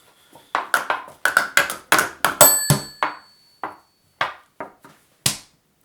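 Players in a party board game strike bells one after another, a quick run of sharp metallic dings with ringing tails; one longer ring sustains mid-clip before a few sparser hits close it out, with no talking.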